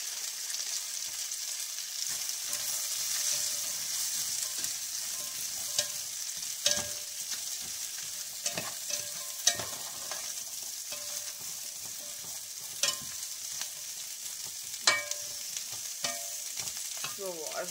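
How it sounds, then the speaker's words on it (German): White cabbage frying in a large pot, a steady soft sizzle with scattered stirring clicks and scrapes, close and fairly quiet, no talking. "erstmal braten wir hier den Weißkohl an"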